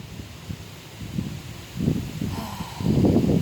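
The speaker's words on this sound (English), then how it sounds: "there's a lot of wind today, and it's a fresh wind" Gusty outdoor wind buffets the microphone in low, rumbling waves that swell and grow stronger toward the end.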